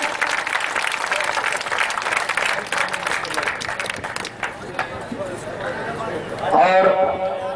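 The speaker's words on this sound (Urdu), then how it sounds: "اس بندے واسطے تساں بھرپور تالیاں مارنی" Audience applause at a Saraiki poetry mushaira in Janjo Sharif, a dense sustained clatter of many hands that thins out near the end, where a voice comes through over the crowd.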